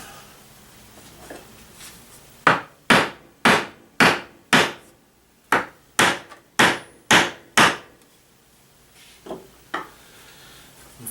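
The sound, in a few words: hammering wooden stool legs into place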